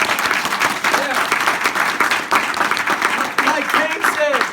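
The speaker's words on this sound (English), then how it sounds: "Let's give him a round of applause." Applause from an audience at an IDLife business presentation, brisk clapping from a room of people with a few voices and cheers mixed in, loud and continuous.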